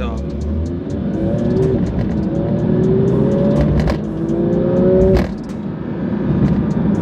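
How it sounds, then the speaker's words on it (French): A Porsche 992 GT3 RS engine rises gently to about 3000 rpm in a soft, steady acceleration, its smooth climbing tone sustained under continuous talking and ending in a brief louder swell before easing off. "Là c'était une petite accélération soft, hein. Je suis à peine monté à 3000 tours minute"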